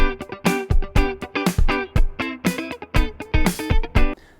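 Funk guitar is strummed hard in a tight rhythmic pattern, bright chord stabs alternating with percussive muted-string chucks locked to the beat, loud and close with no talking.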